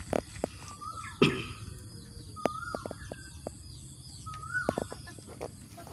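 Chickens in a backyard coop give scattered short clucks and calls over a low background hum, with a few sharp knocks and rustles, fairly close and moderately quiet.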